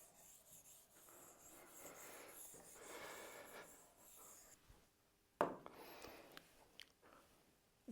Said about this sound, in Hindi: चलिए इसको मैं रब करता हूं थोड़ा सा।